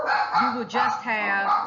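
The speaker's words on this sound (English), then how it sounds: "sorry about the dogs, guys" Several dogs barking and yipping close by in rapid, overlapping bursts under a person speaking, during an indoor lab lecture.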